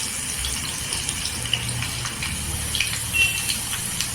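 Garlic hits hot oil in a pan, giving a steady, close hiss of sizzling frying with a few small pops, continuing without speech.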